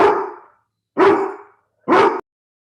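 A dog barks three times close up in a meeting room, loud separate woofs spaced roughly a second apart, with no talk over them.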